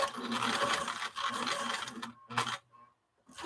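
Sewing machine stitching through lace and fabric along a curve, a steady close mechanical whir that runs almost continuously, with a couple of short pauses and restarts near the end.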